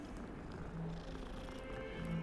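A cat purrs softly in the video game Hogwarts Legacy, a quiet continuous rumbling purr heard alone at low level.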